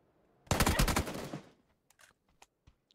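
Automatic gunfire in the battle royale game PUBG: one rapid, loud burst of about a second, followed by a few faint, scattered clicks and taps.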